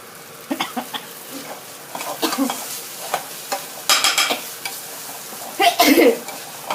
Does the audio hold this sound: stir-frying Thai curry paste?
yes